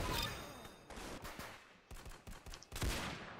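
Rapid gunfire from a super sniper rifle in a video game, several sharp close shots in quick irregular bursts over a few seconds, no talking.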